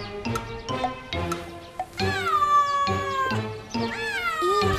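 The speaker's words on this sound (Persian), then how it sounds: "این پیشی گربه همسایه همونه" A neighbour's cat meows repeatedly, close and clear, its drawn-out wavering cries running one after another with short gaps and some faint background sounds.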